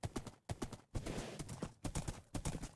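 Horses walking in the video game Minecraft make a rapid, loud run of hollow clip-clop hoof steps that overlap, as if several horses are moving close by. No speech is heard.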